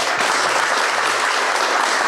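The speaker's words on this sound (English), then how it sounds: "Let's give them a round of applause." Loud, full applause from a government and AI conference audience for the panelists, a thick continuous wash of clapping that holds steady for the whole stretch.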